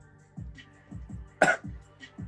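A smoker's dry coughs and throat clearing, several short rough bursts spaced about half a second apart, fairly quiet and close.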